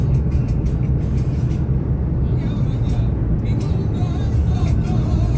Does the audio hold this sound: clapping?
no